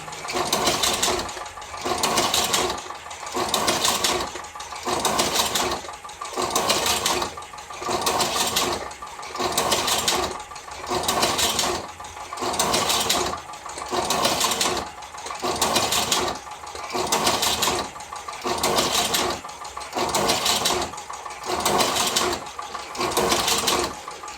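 A Karaşimşek TM Pro tobacco cigarette-filling machine runs in automatic mode, a close, busy mechanical clatter that swells and dips in a regular cycle of roughly two seconds, repeating steadily throughout.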